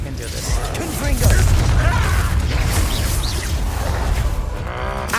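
Fiery Confringo spell blast in the wizarding game Hogwarts Legacy: a booming burst with swooshes and crackling debris over a rumbling battle, sustained and loud across the clip with game voices mixed in.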